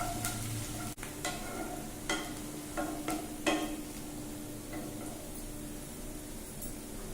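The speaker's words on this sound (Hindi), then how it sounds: "ऑयल गर्म हो गया, इसमें प्याज ऐड कर ले रहे हैं। प्याज को लाइट फ्राई करेंगे।" Chopped onions lightly fry in hot oil for a three-colour rice pulao, a steady low sizzle with soft scraping stirs and a few sharper clicks, no talk.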